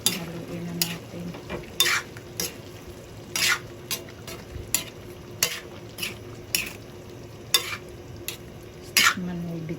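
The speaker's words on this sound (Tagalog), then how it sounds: "Haluin na natin." A spoon scrapes and knocks through pinakbet vegetables in a pan, repeated clinking stirs in an uneven rhythm over a quiet, steady sizzle, close and moderately loud.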